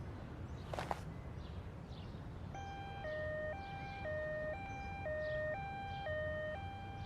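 A two-tone ambulance siren in an anime alternates high and low in a steady wailing rhythm, moderately loud over a rumbling background, after a brief sharp noise early on.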